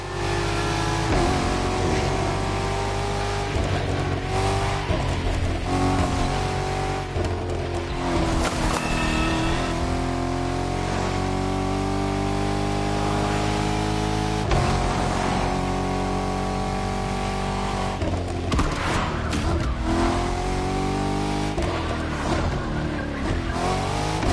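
A BMW M5 Drift Edition in The Crew Motorfest drifts with loud, rising and falling engine revs and repeated bursts of tire squeal and skidding. It is continuous and close, with no talking.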